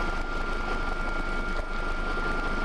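AW139 helicopter landing offshore at night, a steady loud rotor and turbine drone with a constant hum, heard from inside the cabin with no break or change.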